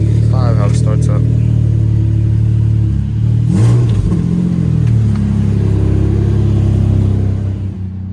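A Nissan Maxima engine, in a car being rebuilt with gauge pods fitted, idles loud and close and gets a brief rev with a rising and falling rumble, then settles back to a steady idle while a person talks over it.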